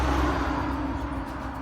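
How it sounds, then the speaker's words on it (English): Rush-hour road traffic makes a steady low rumble of passing cars at some distance, a continuous murmur with no distinct vehicles standing out. "5 o'clock traffic, kind of noisy."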